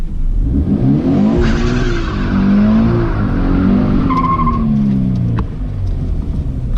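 A car drifting as the driver drops the clutch and the rear end kicks out: a loud, continuous engine roar with rising and falling revs, joined by tire squeal near the end.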